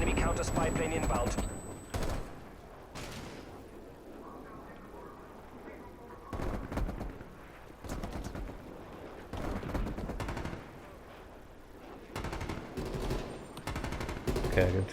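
Gunfire in the Call of Duty video game, bursts of sharp automatic shots and single reports that recur irregularly over a low game background, with some fairly close and loud and others more distant.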